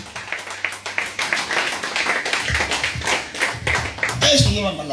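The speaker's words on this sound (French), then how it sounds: "acclame très fort pour Jésus" Church congregation clapping and cheering in acclamation for Jesus, a dense, continuous round of applause with shouts and voices mixed throughout, close and lively.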